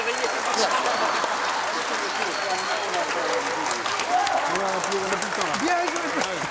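Studio audience on a French TV show applauding for a singer, a steady bed of clapping with voices talking and calling out over it throughout.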